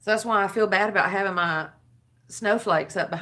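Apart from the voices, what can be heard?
None of the usual background noises is heard.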